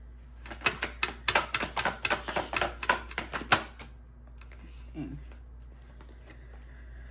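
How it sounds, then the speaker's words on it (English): Tarot cards shuffled by hand, a rapid run of crisp riffling clicks for about three seconds, close and fairly loud, followed by near silence with a faint voice. "Before I shuffle."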